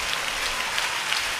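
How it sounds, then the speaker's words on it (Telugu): Loud, dense clapping from a congregation during a Sunday church service, a steady crackling wash of hands filling the whole moment without pause. "చప్పట్లు కొట్టండి గట్టిగా."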